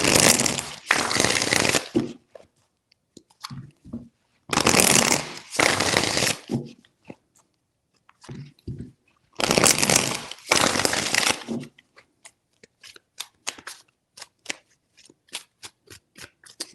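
A deck of tarot cards is shuffled in several separate bursts, each one a crisp, close riffling rush lasting a second or two. Quiet pauses fall between the bursts, followed by scattered light card taps and clicks.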